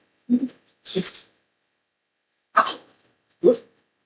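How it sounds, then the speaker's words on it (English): A male cat coughing up a hairball hacks and retches in four short, harsh bursts separated by pauses, close and fairly loud in a quiet room. "My cat's about to throw up. He's got hairballs."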